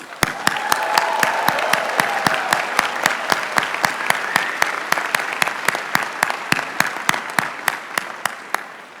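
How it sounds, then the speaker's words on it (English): A large crowd at the 2019 UC Berkeley College of Chemistry commencement ceremony applauds in a sustained wash of clapping, while a few sharp, close claps punctuate it steadily throughout and it gradually fades near the end. "let's give yourself one more round of applause"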